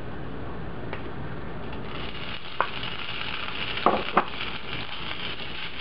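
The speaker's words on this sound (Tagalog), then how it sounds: "Once na uminit na yung oil, ilalagay na natin dito yung ground pork" Ground pork frying in hot oil in a pan, a steady dense sizzle throughout with a few sharp clicks and scrapes of a utensil near the end.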